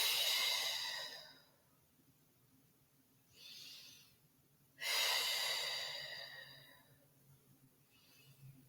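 Deep, slow breaths are drawn close to the microphone while holding a humble warrior yoga pose, with long airy exhales, a fainter intake between them, then another strong exhale tapering away.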